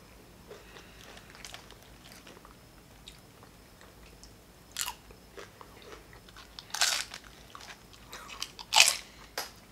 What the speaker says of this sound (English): this is a lot of nachos